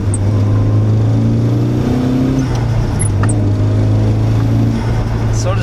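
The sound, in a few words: Nissan 180SX Sileighty 4-cylinder engine accelerating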